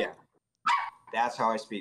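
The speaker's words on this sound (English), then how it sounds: "Sorry, that's my dog." A dog gives a brief bark or yelp in the middle of the clip, close by and fairly loud, with a person talking before and after it.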